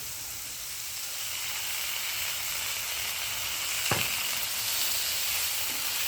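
Curry leaves and tomato sauté in a hot pan for a chickpea curry, giving a steady, even sizzle with one brief clink partway through and no talking.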